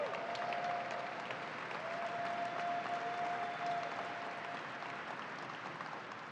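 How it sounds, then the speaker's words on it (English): Crowd applause at the opening of the Great New York State Fair, a dense, sustained wash of clapping from a sizable outdoor audience, steady throughout and tapering slightly at the end. "Let's give them a round of applause."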